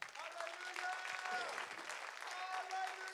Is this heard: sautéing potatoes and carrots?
no